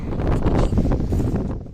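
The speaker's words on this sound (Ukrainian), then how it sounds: "як бачите і чуєте, вітер просто вов" Strong wind blowing across an open lakeshore during a summer morning spinning-rod fishing trip for perch, a steady loud broadband rush buffeting the microphone throughout with no speech.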